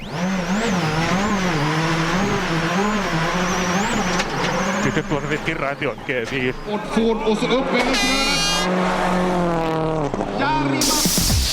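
A WRC rally car spins out on a stage of the Swedish Rally, its engine revving and wailing up and down with tire noise, loud and close, while a commentator speaks over it throughout.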